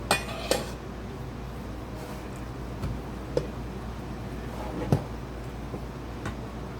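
Soft scraping of a spoon through cooked rice in a pot, with a few light metallic clinks against the pot rising from a quiet kitchen background.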